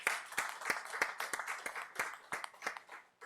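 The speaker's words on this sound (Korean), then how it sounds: "우리 주님께 감사의 박수 한번 올리겠습니다" A church congregation applauding during a Sunday morning service, a short burst of rhythmic clapping with distinct claps, fairly faint and with no talk over it.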